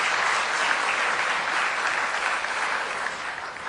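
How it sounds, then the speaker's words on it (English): An audience at a Q&A talk in Delhi applauds, giving a dense, steady wash of clapping that holds at an even loudness throughout, with no distinct individual claps. "he deserves a huge round of applause"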